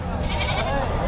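Goats bleating at a cattle, goat and carabao market in Padre Garcia, Batangas, a short nasal cry over the crowded background murmur of people talking nearby.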